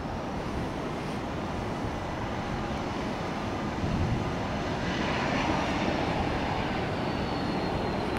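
A Spirit Airlines A320 roars down the runway on its takeoff run, a loud, steady broadband engine rumble that swells slightly partway through and carries on without any voices.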